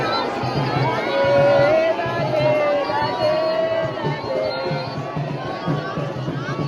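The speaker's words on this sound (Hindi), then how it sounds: "टोकन के लिए कितनी ज़्यादा भीड़ होती है आप देख ही सकते हैं।" A dense crowd waits for tokens at a Vrindavan temple, a steady loud hubbub of many overlapping voices with occasional raised shouts throughout.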